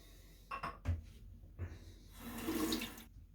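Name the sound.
rinsing face with cold water from tap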